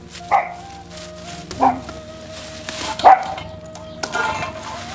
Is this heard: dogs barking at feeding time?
yes